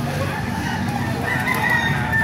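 A Boston Sweater gamefowl rooster, eight months old, crows close by over a steady bed of farmyard background noise, with a few clucks mixed in.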